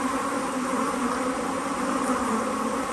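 Honey bees on a Buckfast colony's brood frame hum in a dense, steady drone, close and continuous without a break, and no one speaks over it.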